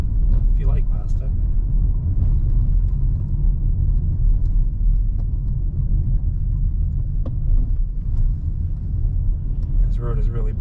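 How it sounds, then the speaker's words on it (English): A car drives along a bumpy road in Somerville, Massachusetts, after recent snow plowing. It gives a constant loud low rumble of road and engine noise inside the cabin, with occasional knocks and rattles, and faint speech can be heard. "This road is really bumpy."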